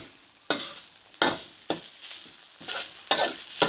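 Spices and whole peppercorns are dry-roasted in a pan for Thai braised pork leg and stirred in regular scraping sweeps, about seven rasping strokes in under four seconds, close and fairly quiet, with no talking.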